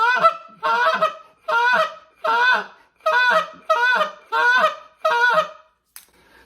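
A goose call gives a spit moan: a series of about eight rhythmic, raspy, moaning honks, evenly spaced and close up, ending with a short click.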